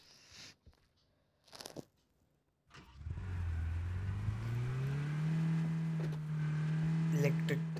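In the mobile game PUBG New State, a car's engine starts after a few short clicks and bursts, then roars steadily with its pitch rising as the vehicle pulls away and keeps driving, loud and close.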